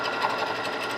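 A Janome Continental M6 sewing machine stitches through cotton with a fast, even mechanical whir, steady and close for a brief moment.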